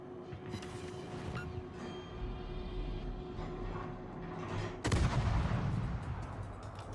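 Warship main guns firing shells in World of Warships, a steady low engine and sea rumble underneath before one heavy, booming salvo lands near the end and rolls on loudly.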